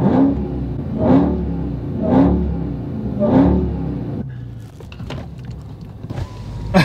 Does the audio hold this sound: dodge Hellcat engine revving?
yes